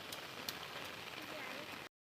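Steady rain patters on a farm field in an even, continuous wash, fairly close and moderately loud, with no voices.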